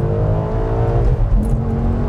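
A Maserati 4200 GranSport's engine drones at speed with a dense, rising low rumble, loud and close from inside the car, with no talk over it.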